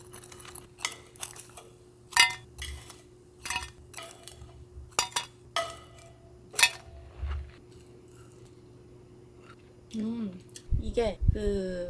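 Fish-shaped bungeoppang bread crisps on a camping heater, giving off scattered sharp crackles and small ticking snaps over quiet, with a voice speaking at the end.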